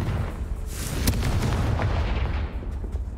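A Confringo blasting spell from Hogwarts Legacy bursts in a loud, booming explosion with a sharp crack near its peak, then a rumbling tail that gradually fades.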